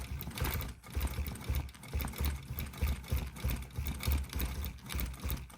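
A Gammill longarm quilting machine stitches a table runner with applique, giving off a steady low mechanical hum with quick rhythmic pulses, close and continuous with no talking.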